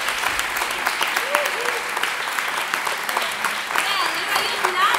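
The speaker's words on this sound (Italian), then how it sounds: "Quindi gli facciamo un altro applauso?" Audience applause at an improvisation class recital, steady, dense clapping that fills the room for several seconds at an even level, with no clear voices.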